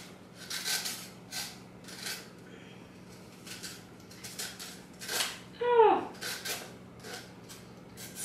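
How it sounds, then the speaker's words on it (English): A spoon scrapes seeds from the shell of a halved spaghetti squash in the kitchen, a series of short, close, scratchy strokes in an uneven rhythm over a faint steady hum. "you want to scoop out all the seeds"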